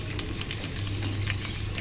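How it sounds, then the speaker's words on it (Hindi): Tadka of tempering spices sizzles in hot oil on a stovetop for a kadhi with pakoras, a steady dense crackling fry with scattered pops, close and continuous. "तैयार हो रहा है यहाँ पे तड़का।"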